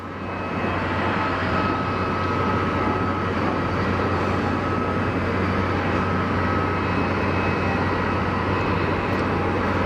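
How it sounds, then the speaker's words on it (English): An EasyJet A320neo airliner on a go-around at Geneva Airport gives a loud, steady jet engine roar with a constant hum underneath, lasting the whole stretch without talk. "EasyJet Neo on the go around"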